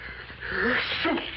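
A single short sneeze rings out nearby, a quick breathy burst with a voiced catch, against a quiet background.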